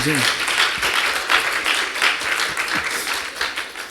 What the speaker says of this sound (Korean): 박수를 크게 쳐야 돼.